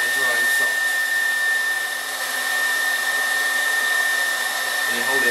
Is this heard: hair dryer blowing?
yes